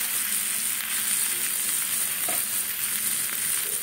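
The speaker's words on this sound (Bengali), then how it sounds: "পেঁয়াজটা কিন্তু আমি খুব কড়া করলাম না, হালকা ভাজলাম" Onions fry gently in a pan, giving a constant, even sizzling hiss with no breaks and no voices.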